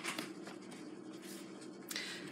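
Black paper envelopes are handled and shuffled together, producing soft papery rustles and quick flicks, quiet and close, with a couple of sharper slides among the continuous fluttering.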